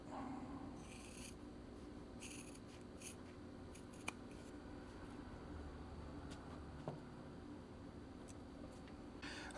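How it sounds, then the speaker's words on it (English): Scissors snip through fabric while a small 4 by 3 centimeter rectangle is cut out for a zippered bag, giving soft, close rasping cuts in short irregular bursts with pauses between. "And we're just going to take our scissors."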